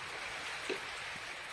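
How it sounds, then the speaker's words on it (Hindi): Steady heavy rain pours down during a storm in Delhi-NCR, a continuous dense hiss with no pauses and a faint drip or knock partway through. "भयंकर बारिश और तूफान सुबह से ही लगातार जारी"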